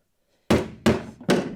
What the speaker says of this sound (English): So I'll just give that a little flatten there with the hammer.